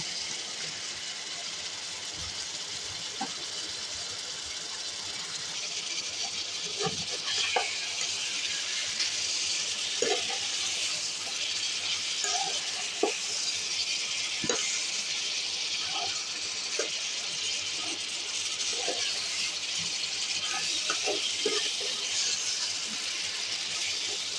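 Four kinds of chopped vegetables fry in spiced masala for a katla fish head and tail curry, a steady close sizzle with scattered soft clicks of a spoon stirring throughout, and no speech.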